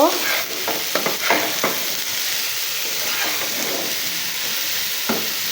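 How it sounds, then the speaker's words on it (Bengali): Pumpkin frying with turmeric and salt in a pan gives a loud continuous hiss, with a cluster of scraping stirs early on and another single scrape near the end. "হলুদ আর লবণ দিয়ে দিয়েছি দিয়ে একটু নাড়াচাড়া করে নেব"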